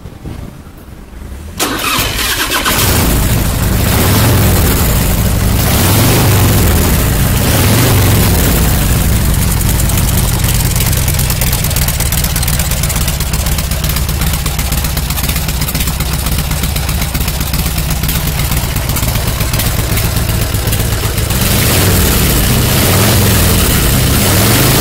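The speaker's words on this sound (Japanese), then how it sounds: "ではエンジンをかけてみます。" A 1992 Harley-Davidson FXR Super Glide motorcycle engine cranks and fires after a short quiet start, then settles into a loud, steady, lumpy idle that runs close and continuous for over twenty seconds with no talking.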